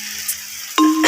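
Onions frying with spices for a home-cooked chicken curry give a steady close sizzle, broken near the end by a sudden bright metallic ring like a utensil striking the pan.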